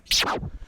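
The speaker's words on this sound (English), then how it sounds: "So if you move it fast forward, it sounds like this" A single quick scratch as a vinyl record is pushed fast forward, a fast swooping pitch sweep that dips downward in under a second, loud and close.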